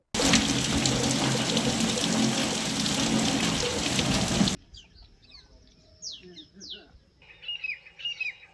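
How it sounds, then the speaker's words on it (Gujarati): Unseasonal night rain showers fall over villages near Veraval in Gir Somnath, a loud, steady hiss lasting several seconds that cuts off abruptly to a quiet scene with scattered bird chirps. "રાત્રિના કમોસમી વરસાદના ઝાપટા પડ્યા"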